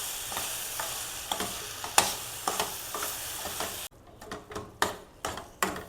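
A spoon stirs jaggery into a ragi and jackfruit batter, making repeated close, wet scraping and squelching strokes in a steady rhythm. A brief break falls midway before the mixing resumes, with no voices.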